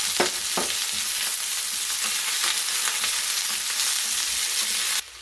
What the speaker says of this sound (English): We're going to saute these down.